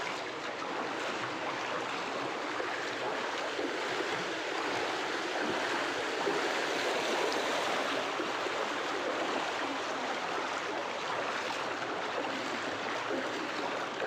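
Floodwater flowing across a road in a flooded area, a steady broadband rushing wash with no pauses, moderately loud and continuous throughout.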